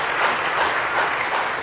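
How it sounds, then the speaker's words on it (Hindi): An audience at a religious gathering claps for a girl's question, a dense, even burst of applause from many hands that sounds fairly close and lasts under two seconds. "ताली बजाओ इस बच्ची के लिए"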